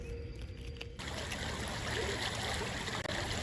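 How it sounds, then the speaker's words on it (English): A small creek runs beside a mountain resort access road, a continuous close rush and trickle of water that swells after a quieter start. "There's a little creek that runs parallel to the main access road."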